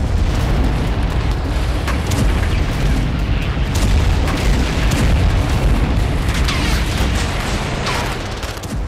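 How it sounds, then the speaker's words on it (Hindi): A dense, roaring rumble of air strike explosions fills the whole stretch, deep booms rolling into one another without pause, loud and close. "सटीक निशाना और जोरदार धमाका"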